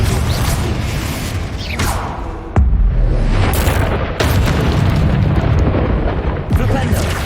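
Confringo fire spell in Hogwarts Legacy bursting into fiery explosions: deep booms hit around the middle and again shortly after, over a dense, continuous rumbling roar of game effects.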